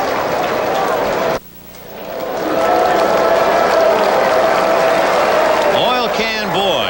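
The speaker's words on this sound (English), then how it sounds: "Oilcan Boyd leaving the field. The crowd say goodbye to him." Spring training baseball crowd at a Red Sox home game applauding as pitcher Oilcan Boyd leaves the field, a broad steady wash of clapping and crowd noise after a brief lull, with voices talking over it.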